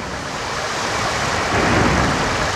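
Rushing floodwater sound effect in a Bhagwat Katha storm story: a steady, loud, broad whooshing roar like surging surf, rising slightly in the second half, with no talking.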